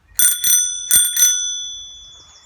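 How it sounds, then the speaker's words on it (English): A bicycle bell rings twice in quick double dings, bright and close, its metallic tone lingering and fading away afterwards. "I have my bell"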